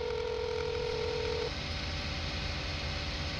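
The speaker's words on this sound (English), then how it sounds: "Is that my phone?" In-game phone ringing in Farming Simulator 19: a steady electronic tone that holds for about a second and a half over constant loud engine-like background noise, then cuts out.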